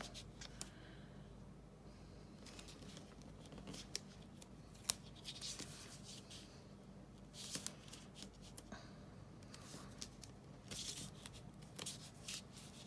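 White liner tape pulled and pressed around the bottom edge of a desktop fish tank, giving faint crackling, tearing and rustling handling noises with sporadic small clicks, close and quiet.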